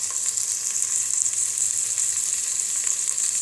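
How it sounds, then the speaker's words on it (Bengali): Prawns with salt frying in a pan make a steady, bright, close sizzle with faint stirring scrapes underneath, continuous throughout. "খুব ভালোভাবে একটু ভুনে নিচ্ছি চিংড়ি মাছগুলোকে"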